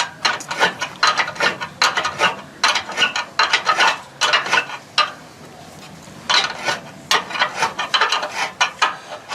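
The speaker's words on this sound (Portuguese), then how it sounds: "É exatamente acochando o parafuso" Rapid bursts of metallic ratcheting and clicking from a tool tightening solar panel mounting bolts on a roof, in repeated irregular runs with short pauses between.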